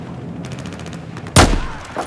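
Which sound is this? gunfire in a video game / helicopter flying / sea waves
gunfire in a video game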